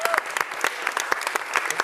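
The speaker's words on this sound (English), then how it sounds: "So let's just start with give ourselves a round of applause" An audience in a conference room applauding, a burst of many hands clapping quickly and evenly, close and fairly loud, with a voice briefly audible under it.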